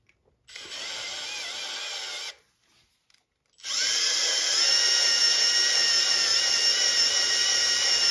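A power drill whines at high speed while tapping holes into a Powermatic cast iron shaper top, one short burst, a brief pause, then a longer sustained run, loud and close.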